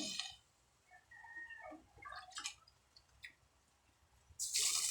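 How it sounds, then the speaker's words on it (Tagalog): Water poured into a cooking pot for ginisang mais with malunggay, producing intermittent splashing and gurgling close by, with a louder rush of pouring at the end. "Then, lagyan ng tubig."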